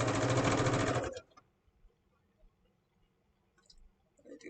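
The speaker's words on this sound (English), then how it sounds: "I'm gonna sew straight down here" A sewing machine stitches a tool apron in one loud, rapid, close run of about a second, then stops, leaving near silence and a few faint handling clicks.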